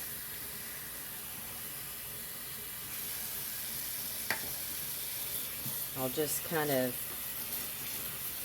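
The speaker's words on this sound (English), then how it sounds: "You turn on the water, and add in the vinegar." Running tap water splashes steadily into a sink as cilantro is washed in cold water with vinegar, a continuous hiss with brief speech partway through.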